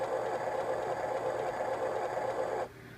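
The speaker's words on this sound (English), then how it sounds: "So that's just your warp core sound." Electronic warp core engine effect from a 1992 Playmates Star Trek Enterprise-D toy, a steady buzzing, throbbing hum played close and fairly loud that cuts off abruptly near the end.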